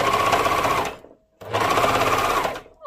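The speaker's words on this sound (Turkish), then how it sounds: "Ben önce overlock'ta birleştiriyorum." An overlock sewing machine stitches a trouser-skirt seam in two loud, rapid bursts close by, separated by a short pause, with a faint thread or fabric noise at the end and no talk.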